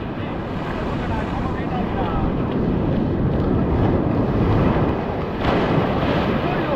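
Ocean waves surging up a beach during a ride along the shore, a loud continuous rushing wash with wind buffeting the microphone, steady throughout with a brief swell near the end.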